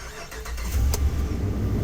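A 2019 Dodge Ram truck engine is started with a key: a brief crank catches into a steady, close engine rumble.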